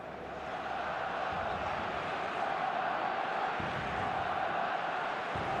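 A stadium crowd in the eFootball mobile football game gives a steady, dense roar with continuous murmuring and swelling noise, loud and sustained throughout without any clear pauses.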